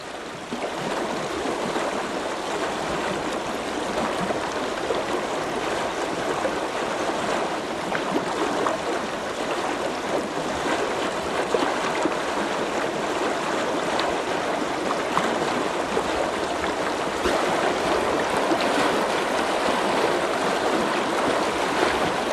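River water flows steadily in a broad, continuous rush with a constant level throughout, heard alone without any talk over it.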